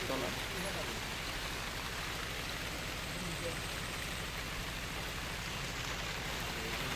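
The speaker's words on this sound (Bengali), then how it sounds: "এই সময় আবারও বৃষ্টি নামলো।" Steady rain pours at night along the Sundarbans coast, a dense continuous hiss filling the scene without pause, close and even throughout.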